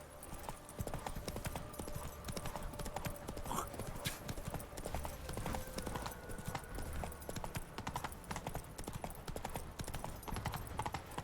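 Roach the horse's hooves clip-clop in a steady walking rhythm throughout, close and continuous, in The Witcher 3, with a brief whinny and ambient game background.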